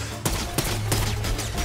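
A turret in Fortnite fires a rapid run of sharp, loud gunshots spaced roughly a third of a second apart, with a low steady hum beneath them.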